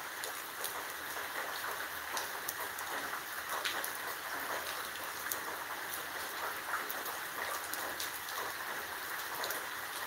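Heavy rain falls steadily and loudly over a flooded house yard during a historic downpour, a dense continuous hiss with scattered drop impacts and no voices.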